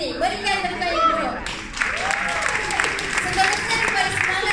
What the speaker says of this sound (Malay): Berikan tepukan yang dulu.